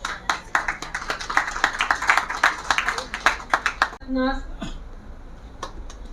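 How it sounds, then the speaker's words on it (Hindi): An audience at an International Women's Day awards ceremony claps in a quick, scattered round of applause for several seconds, then it stops and a voice speaks. "आपकी क्लैपिंग में सच लगता है सारी ऑडियंस"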